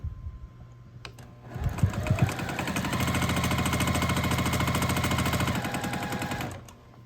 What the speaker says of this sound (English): now we're going to sew from this corner to this corner